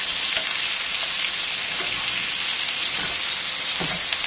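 Salmon dinner ingredients mixed together in a small pan over a steady loud sizzle, with occasional soft scrapes and stirs rising above the continuous frying hiss.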